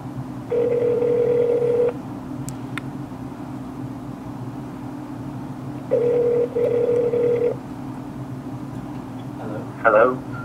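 A phone call rings on a Mac connected to an iPhone. Two bursts of an electronic ringing tone sound, each lasting about a second and a half, over a steady background hum, ending with a brief clatter.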